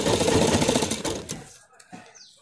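A sewing machine stitches cloth for making warm winter shoes and socks, running in a loud continuous rattling burst that stops about halfway, followed by a few faint clicks and light handling noises.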